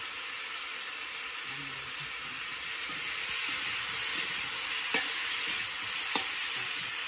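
Split green chili frying in a pan of oil while puishak (Malabar spinach) is being cooked, a steady close sizzle and hiss with a few soft stirring clicks and a faint louder spit near the end.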